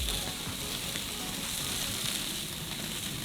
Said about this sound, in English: Try to flip Glenn's burgers.